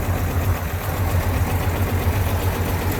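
Motorcycle engine idling in first gear with the choke pushed all the way in, a steady close low putter with an even pulsing rhythm and no talking.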